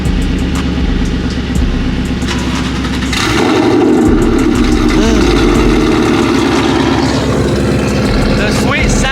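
A Ford Mustang S197 engine runs loud and close, idling with a deep steady rumble before a revving surge around the middle, while people talk over it.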